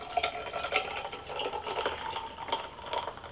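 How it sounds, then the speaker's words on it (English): Club soda or seltzer poured into a glass over a whiskey cocktail, a steady fizzing, bubbling trickle with small splashes and gurgles, close up and alone without talk. "Get your club soda or your seltzer water."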